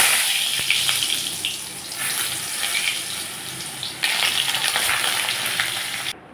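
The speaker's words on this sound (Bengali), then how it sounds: "এখন আমি আলুগুলো ছেড়ে দিচ্ছি।" Potato pieces go into hot mustard oil in a wok and fry with a steady, hissing sizzle that swells and eases, with a sharp burst near the end, close and fairly loud without speech.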